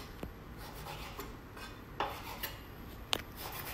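A kitchen knife slices food on a cutting board in quiet, soft strokes with a few sharper taps against the board, close by and without talk.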